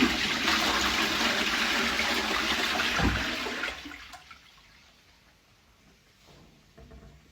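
A toilet flushes in a home bathroom where the plumbing is leaking, a loud rushing surge of water that lasts about four seconds before dropping to a faint trickle and refill.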